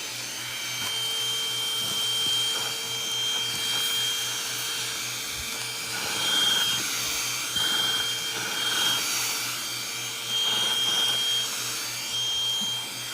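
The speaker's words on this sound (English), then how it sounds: "So, these are handy dandy hand vac. Onson, easy power on." An Onson handheld vacuum cleaner runs steadily throughout, a continuous mid-loud motor whine with a low hum and small surges in level, no talking.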